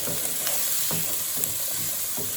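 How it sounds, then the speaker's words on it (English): Vegetables for jackfruit patties fry in a pan with a constant close sizzle and hiss, broken by soft scraping stirs every half second or so, no one talking. "So you just want to fry these up for a few minutes."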